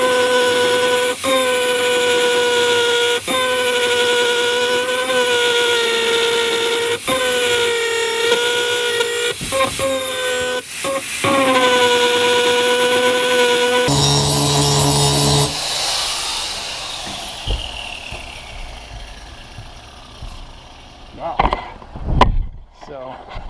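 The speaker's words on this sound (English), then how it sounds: "I might actually have to go to a grinder because this thing is quite pitted" A grinder works the rust off a heavily pitted, rusted axe head, its harsh broadband grinding rising after a stretch of steady tonal humming, then a whine winding down with a few loud knocks at the end.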